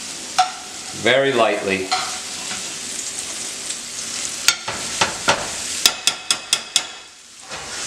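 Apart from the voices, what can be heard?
shrimp cooking in a pan for fettuccine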